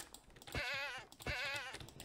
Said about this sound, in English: Run! It's a goat. They can knock me off the cliff.